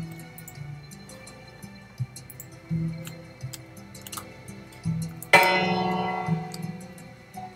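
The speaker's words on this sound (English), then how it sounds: "Here is the bell tower, which was used to signify the events of the day." A mission bell in the bell tower of San Luis Rey de Francia, California, strikes once, ringing and slowly decaying after a stretch of soft, scattered ticks and knocks.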